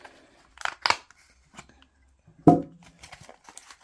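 A small plastic, velvet-lined case of Mission Axiom darts is opened, with a few close, sharp clicks and snaps followed by faint handling rustles.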